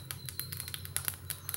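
Mustard seeds pop and splutter in hot oil, a rapid, irregular run of sharp crackles over a low steady background hum, close but fairly quiet.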